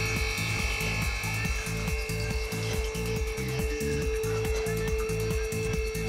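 A hydraulic four-post double parking lift raises its tracks, its pump whining in a continuous steady drone with a rhythmic pulsing low hum throughout, close and even.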